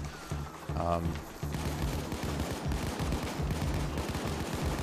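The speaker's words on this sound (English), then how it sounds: "a lot of recoil on the guns, you know, controlled bursts" Rapid automatic gunfire from the video game Payday 2 rattles in dense controlled bursts, loud and continuous, with game effects layered over the shots and a voice talking along beneath them.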